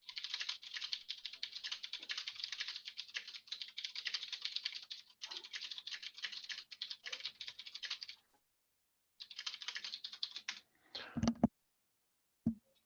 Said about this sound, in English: I was typing live there